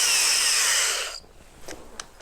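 A power drill whirs at a steady high pitch for about a second, then winds down and stops, followed by a few faint clicks and taps.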